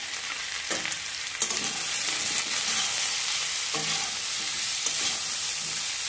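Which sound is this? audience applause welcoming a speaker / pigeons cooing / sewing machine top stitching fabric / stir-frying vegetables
stir-frying vegetables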